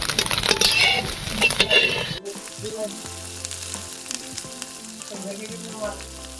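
Egg bhujia, scrambled egg, sizzles loudly in a hot pan for about two seconds, then the frying drops away to quieter scraping and light metallic clinks as it is lifted out.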